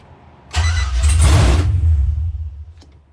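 A car's engine fired by push-button start, with foot on the brake: a loud, close crank that catches into a roaring burst, then settles and fades toward idle within about two seconds.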